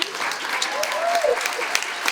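An audience at the World Stage performance gallery applauds during a Founders Day event, a full, steady round of clapping with a few cheers rising over it, a voice briefly audible underneath.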